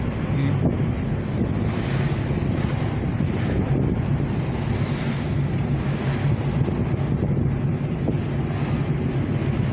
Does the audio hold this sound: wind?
yes